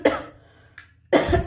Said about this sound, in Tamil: ரொம்ப இருமுறீங்களே,